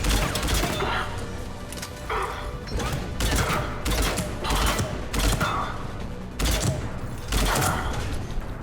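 Repeated bursts of automatic fire from the Phaeston rifle in Mass Effect 3, loud and close, spaced by short gaps and mixed with mechanical clanks and faint battle noise.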